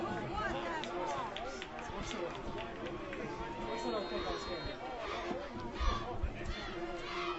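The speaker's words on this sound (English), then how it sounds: "you can hear the intensity in the crowd of this rivalry game" Crowd at a high school rivalry football game between Basha and Perry, a continuous babble of many voices from a packed stand, fairly distant, with a few louder thumps near the end.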